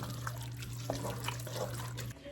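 Water poured while making sloppy joes in a home kitchen, a steady trickling stream heard close up over a constant low hum, stopping near the end.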